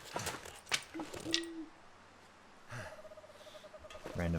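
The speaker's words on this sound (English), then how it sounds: "Random bird noises." Bird calls in the snowy wilderness survival game The Long Dark: a few short hoots and chirps, soft and a little distant, over quiet wind.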